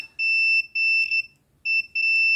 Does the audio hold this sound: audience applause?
no